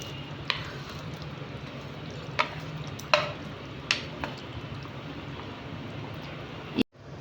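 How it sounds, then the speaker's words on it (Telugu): Fried paneer cubes are added and stirred into a simmering matar masala gravy in a pan, giving a low steady bubbling with a few soft clinks and scrapes of the spoon, quiet and close. "దీంట్లో మనం ఫ్రై చేసి పెట్టుకున్న పన్నీర్ వేద్దాము"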